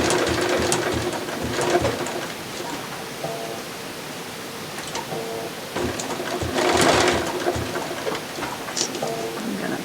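A sewing machine stitches through the layers of a quilt, a near, continuous rattling hum that surges a little louder in spots, with no one speaking.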